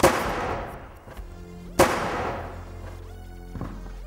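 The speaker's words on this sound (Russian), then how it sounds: "В реальной машине подушка безопасности взрывается благодаря датчикам удара" Car airbag fired explosively beneath a 25-kilogram car wheel, launching it upward: two sharp loud bangs about two seconds apart, each ringing out into a decaying tail, followed by a smaller thud.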